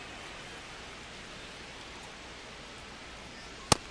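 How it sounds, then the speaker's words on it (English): Steady, even rain hisses across a baseball broadcast in MLB The Show 26, a Dodgers vs Mariners game, as a constant broadband wash with a single sharp click near the end. "It feels like we might be headed towards a rain delay if the weather doesn't ease up, Chris."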